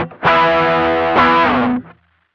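Electric guitar played through a BOSS SD-1W Waza Craft overdrive pedal, two loud distorted chords ringing in succession with a thick, mid-heavy sustain before cutting off sharply.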